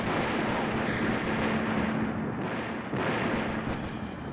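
Continuous roaring blasts of grenades and pulse cannon fire fill the scene in a Battle Engine video game, dense and loud with no gaps and no voice.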